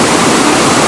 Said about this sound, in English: Waterfalls in the distance are still coming down.